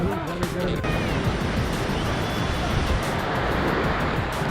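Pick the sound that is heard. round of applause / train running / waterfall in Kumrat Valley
waterfall in Kumrat Valley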